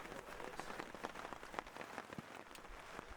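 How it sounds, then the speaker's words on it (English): Rain falls on a riverside camp in Guatemala, making a steady, soft patter with scattered sharper drops striking nearby surfaces. It stays fairly faint and even throughout, with no voices. "Later that day, the rain started and we made camp"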